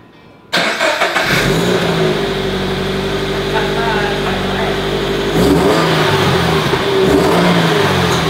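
A first-generation Toyota FRS engine with stock exhaust starts and revs up, holding a steady mid-pitched drone before a second, louder rev; the exhaust note sounds fairly muted.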